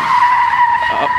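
Loud tire skid from a car swerving on the 101 freeway in Los Angeles, a sustained squeal held steady for over a second with no crash following.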